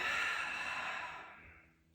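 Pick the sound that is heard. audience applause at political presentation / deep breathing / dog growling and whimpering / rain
deep breathing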